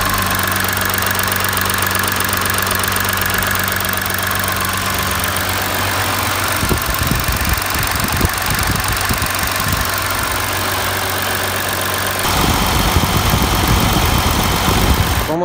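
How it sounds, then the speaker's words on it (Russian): A car engine idles steadily with a constant low hum and faint knocking, its tone shifting slightly partway through as the running continues. "Это работа мотора."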